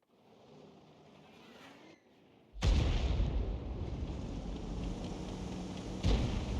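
A tank cannon fires in War Thunder, the shot from an S-51 hitting the ground in front of a tank: a sudden loud boom after quieter engine rumble, then a sustained heavy roar with a second blast near the end.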